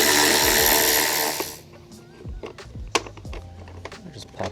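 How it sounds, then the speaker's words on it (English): Removing the two bolts on the motor cover of a BMW G20 330i bumper: a loud power tool whirs for over a second, then stops, followed by clicks, clunks and handling noises of metal and plastic nearby. "So we're gonna remove the 2 bolts holding it in."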